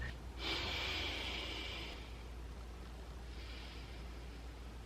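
A person breathes deeply and slowly to calm down, with a strong close exhale near the start and a softer breath later, set over a low steady background rumble.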